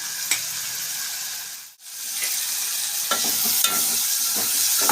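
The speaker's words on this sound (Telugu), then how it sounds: "ఉప్పు పసుపు వేసినాం కాబట్టి టమాటా పండ్లు తొందరగా మగ్గుతాయి" Tomatoes seasoned with salt and turmeric sizzle steadily in a pan, with several scraping stirs cutting through the frying hiss, close and moderately loud with no voices.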